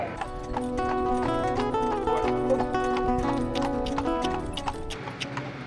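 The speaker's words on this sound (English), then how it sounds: "wagonettes, they're called, horse-drawn, and we'll take a ride into Killarney National Park" Horse hooves clip-clop steadily as a horse pulls a horse-drawn wagonette toward Killarney National Park in Ireland, a continuous even rhythm of close, moderately loud hoofbeats under a humming tonal background.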